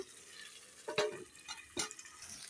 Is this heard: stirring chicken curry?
yes